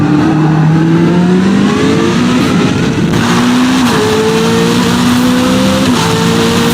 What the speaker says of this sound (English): they didn't really get the sounds right for a lot of the cars in this game